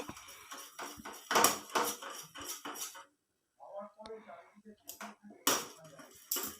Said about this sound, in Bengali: দেখুন এইভাবে বারে বারে নেড়ে দিলাম চামচ দিয়ে